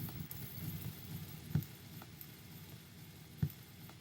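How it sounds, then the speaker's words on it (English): Self-recorded vinyl noise for a track: a very faint, soft crackling hiss with a couple of sharper pops, low and steady on its own. "I also recorded some vinyl noise myself."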